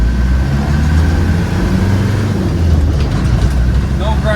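A 1990 Land Rover Defender 110 County's 200Tdi diesel runs steadily with a loud, close low drone while going through the gears, with no clear breaks between shifts.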